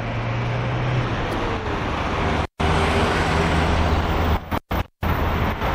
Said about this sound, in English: So the other truck is now coming into view.